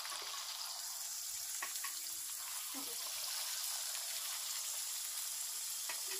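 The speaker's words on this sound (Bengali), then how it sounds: "তেলটা গরম হয়ে গেছে, এবার আমি সবগুলো আস্তে আস্তে ছেড়ে দেবো লেচিগুলো" Dough pieces for papri chaat frying in hot oil on a gas flame, giving a steady bright crackling sizzle throughout with a few small clinks and stirring bumps.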